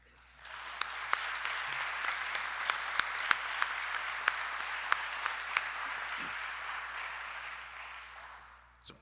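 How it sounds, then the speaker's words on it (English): An indoor audience at a Hall of Valor induction ceremony claps for the inductees: a sustained, even round of applause with sharp individual claps standing out, swelling in and then tapering off near the end. "how about a round of a round of applause of congratulations to our 2026 inductees"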